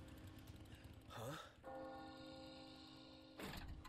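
A bell tolls in the Resident Evil 4 Remake game, its long sustained ringing tone layered over tense in-game ambience and noise, with a louder whoosh before and after.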